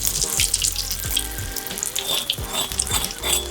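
Battered fish shallow frying in hot oil gives a steady, close crackling sizzle with dense spitting pops and a few soft low thuds underneath, with no talking.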